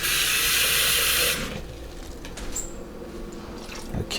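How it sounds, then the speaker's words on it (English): A close, steady gush of water pours into a pan on a stove for about a second and a half, then stops, followed by quieter drips and small kitchen handling sounds. "let me add a little water to it."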